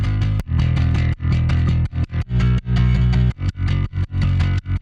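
Heavily distorted electric guitar plays a chugging, choppy palm-muted power-chord rhythm, loud and gritty with short gaps between bursts of chords.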